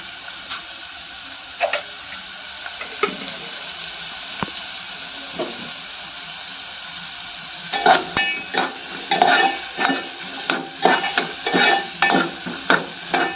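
Onion frying in a pan for a shegla-leaf bhaji served with amboli bhakri: a quiet sizzle at first, then a spoon scrapes and stirs in a busy run of clinks and scrapes.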